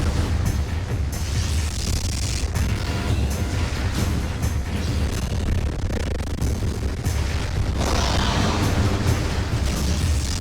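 A sustained, loud rumbling blast from Metroid Prime 2 as an armored tail is shot off an enemy, dense booming low end lasting throughout, with a brighter burst near the end.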